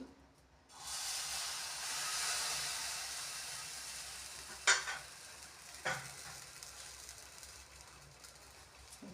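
Chitoi pitha rice cakes fry one by one in a pan, a sudden hissing sizzle that swells and then settles into a steady fizz, with two sharp clinks from a utensil partway through.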